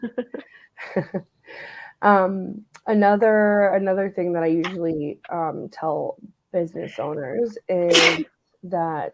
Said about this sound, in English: I have really bad allergies